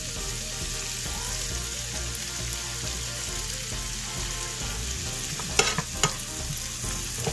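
Onions sauté in a pan at home, giving a constant loud sizzle for several seconds, with a couple of sharp clinks of a utensil near the end. Nobody talks.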